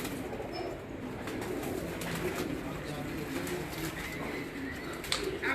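Pigeons coo softly and steadily on a rooftop loft in Faisalabad, low murmuring calls with occasional flutters and small knocks, while someone speaks at moderate distance.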